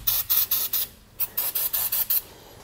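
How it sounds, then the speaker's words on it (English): Penetrating oil sprayed from an aerosol can onto trailer axle bolts gives a series of short, close hissing bursts in a quick regular rhythm, about ten squirts in a row, with no talk. "I'm also going to grab some penetrating oil and just hit these bolts here to help break them loose."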